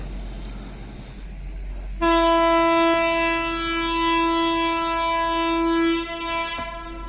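Mettur Dam Express train at Omalur Junction station sounds a long, loud, steady horn blast lasting about four seconds, cutting in sharply after a quiet start before fading at the end.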